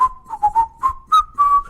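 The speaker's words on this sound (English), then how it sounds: "I had to whistle that." A person whistles a short melodic tune as an intro, clear, close and alone, in several quick phrases that end on a longer held note.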